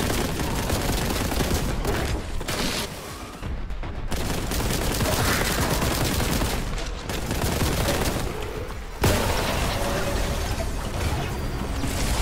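Relentless automatic gunfire in the video game Warhammer 40K: Boltgun, a loud, continuous barrage of rapid shots and booms with only a few brief pauses.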